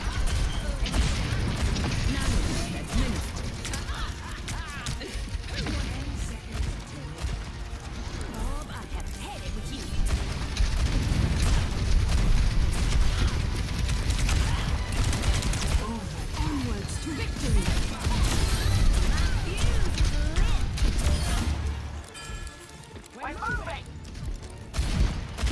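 Overwatch 2 gunfire rattles in dense, continuous bursts under a busy mix of crashes and game effects. Voices can be heard talking now and then through the sustained clatter.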